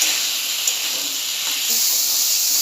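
Fried potatoes, squash and boiled chickpeas being sautéed in a pan for a vegetarian dalna give off a loud, steady, close sizzling hiss that holds for the whole stretch.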